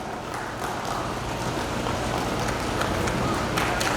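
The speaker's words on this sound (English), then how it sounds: "Let's give a big round of applause to Mr." Applause from a community audience at a Bhagvat Saptah gathering in Edison, New Jersey: a steady, dense wash of many hands clapping at moderate distance, continuing evenly throughout with no voices on top.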